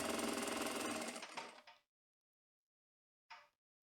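Sewing machine rapidly stitching the overlocked seam of a tailored skirt, a loud close run that stops abruptly, followed by silence and one brief mechanical clack.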